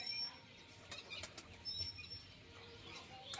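Pigeons in a fancier's loft flap their wings in a few quick, faint bursts against a quiet background.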